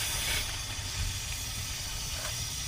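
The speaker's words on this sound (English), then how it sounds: "I open now all drain cocks from both machines, so to allow the preheating" Steam hisses steadily from the opened drain cocks of two preheating steam engines, a steam pump and a Stewart 5A. The broad, continuous hiss runs loud and unbroken with no talk.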